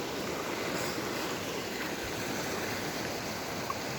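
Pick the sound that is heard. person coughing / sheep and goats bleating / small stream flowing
small stream flowing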